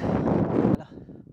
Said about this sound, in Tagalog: Kung naririnig nyo lang yung hangin, grabe, parang kaming tinutulak ng balik.